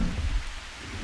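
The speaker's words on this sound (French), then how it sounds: "Donc là, nous avons une tempête sur les bras." A thunderstorm in Jurassic World Evolution: dense rain with a deep rumble of thunder, loud and continuous for a brief moment, with no voices.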